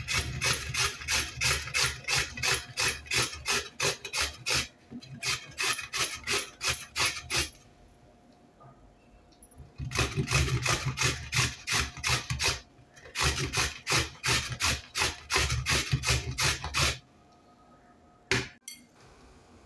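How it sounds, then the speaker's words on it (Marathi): A peeled raw potato is rubbed across a metal kitchen grater in quick rhythmic rasping strokes, close and clear, coming in bursts separated by short pauses. "आता आपण तो किसणीवरती किसून घेऊया।"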